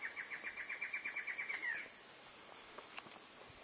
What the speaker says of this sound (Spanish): Es alguna especie de ave que hace ese sonido tan maravilloso.